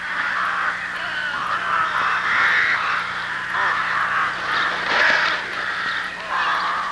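Rooks calling over a busy rookery, a steady overlapping chorus of harsh caws at moderate distance, with louder bursts rising now and then.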